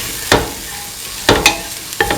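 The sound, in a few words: stirring garam masala spices into a pan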